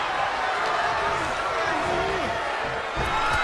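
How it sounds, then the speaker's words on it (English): Arena crowd roaring in a pro wrestling video game, a continuous loud wall of cheering with a commentator speaking over it and a thud near the end. "The sound of this crowd is deafening"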